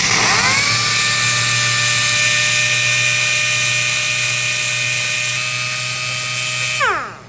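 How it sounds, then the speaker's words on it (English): A power sander works on a part with a loud, steady high-pitched whine that holds for several seconds, then spins down and fades at the end. "You can just take a sander with sandpaper, or you can take sandpaper by hand or a file"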